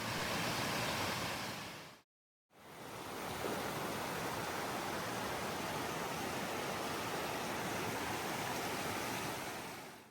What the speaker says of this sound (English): Our drive led us to Cascade Springs, a peaceful spot with clear water, wooden walkways, and bubbling springs surrounded by moss and wildflowers.